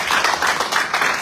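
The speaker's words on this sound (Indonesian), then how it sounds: "Berikan tepuk tangan dulu." Church congregation clapping together in a brief burst of applause, fairly close and dense, with no talk over it.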